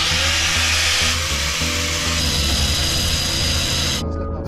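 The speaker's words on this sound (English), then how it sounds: "So now we're going to cut the shaft." A power tool grinds through a boat propeller shaft, a loud steady whining buzz with a shifting pitch that cuts off abruptly near the end, close by and alone.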